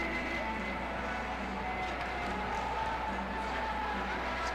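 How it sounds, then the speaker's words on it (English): Arena crowd roaring at a men's college volleyball match, IPFW against top-ranked USC in 1991, after a big block; a steady, distant wash of cheering under a commentator's voice. "You can see the crowd just go nuts."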